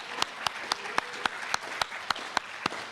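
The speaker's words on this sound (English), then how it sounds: "So a round of applause for Josh and Carroll Magazine." Audience applause at a community presentation event, a fairly sparse group clapping with distinct individual claps popping out at a regular pace over a softer wash.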